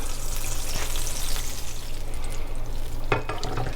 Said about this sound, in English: just add the butter in there and just let it melt